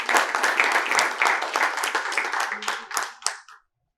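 Audience applause at a public event, a brisk burst of many hands clapping close by, thinning into a few separate claps before cutting to silence at about three and a half seconds.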